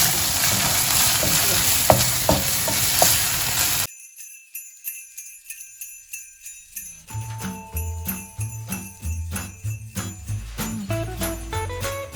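Water hits a pot of frying coconut vegetable jollof rice with a loud sizzle, then a short lull gives way to rhythmic stirring with repeated clinks of a utensil against the pot.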